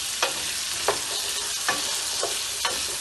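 Potatoes frying in a pan with chillies for aloo palak, a constant hissing sizzle broken by five evenly spaced scraping stirs of a spoon.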